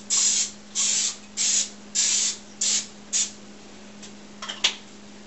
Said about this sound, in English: I'm going to grease mine because you don't want the toast to stick to the pan and stuff